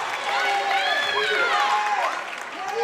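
A Kilgore basketball crowd cheers and applauds after a made free throw in a Region XIV college game, a loud, sustained roar with many voices rising and falling together.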